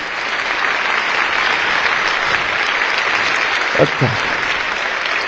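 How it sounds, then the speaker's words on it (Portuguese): A crowd at a speech by a Mozambican politician gives sustained applause for the team, a dense, loud, even roar of clapping throughout, with a brief spoken word near the end. "uma salva de palmas para essa equipa toda"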